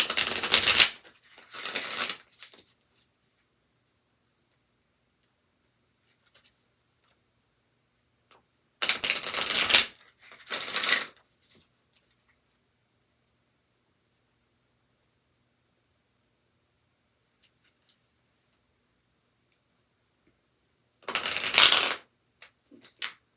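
Stiff tarot cards are shuffled upside down in three separate bursts of crisp riffling and flapping, each lasting a second or two, with long silent gaps between them and no talking.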